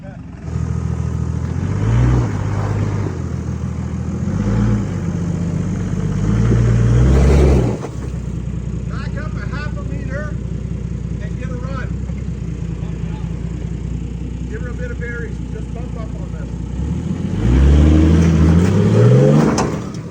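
A 4WD vehicle climbs through ruts on a track in Tasmania's north west, its engine revving hard in loud surges at the start and again near the end, with a quieter idle between while people talk.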